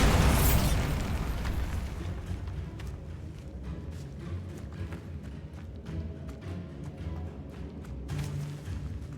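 A Bombarda spell blast in the video game Hogwarts Legacy opens with a loud, sharp boom that decays into a rumbling, crackling tail lasting several seconds, with scattered debris-like pops following.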